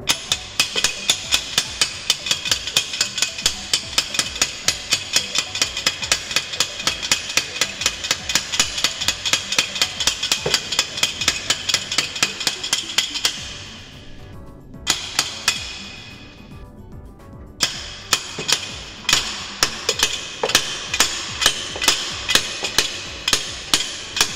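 Rapid, evenly spaced metallic hammer blows on a part of a Suzuki GT125 motorcycle under rebuild, with a brief pause and then more steady strikes.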